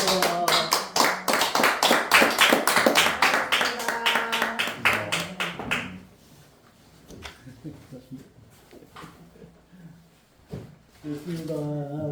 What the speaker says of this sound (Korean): 영광의 박수 함께 올려주십시다